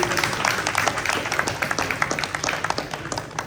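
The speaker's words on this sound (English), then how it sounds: "Can we get another round of applause for Mr. Barnes, please?" Audience applause at an end-of-year awards ceremony for a high school FBLA chapter: dense, steady clapping from a crowd, moderately loud and continuous throughout.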